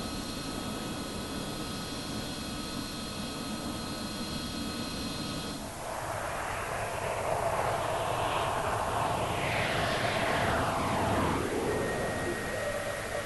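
A Soviet MiG-23 military jet fighter roars steadily, then swells into a louder rushing pass with a sweeping, shifting whine as it goes by, sustained and fairly close throughout.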